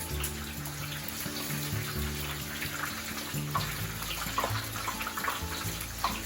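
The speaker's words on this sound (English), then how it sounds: "Green peppers, and fry them for 1 to 2 minutes." Green peppers frying in hot oil for tempura, a steady close sizzle and bubbling crackle running continuously with a low hum underneath.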